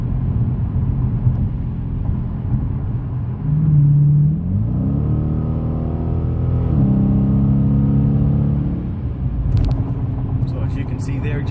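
A Dodge Challenger R/T engine rumbles and rises in pitch as the car accelerates, a steady low drone with a couple of clear upward revving sweeps, heard close and continuous for the whole stretch.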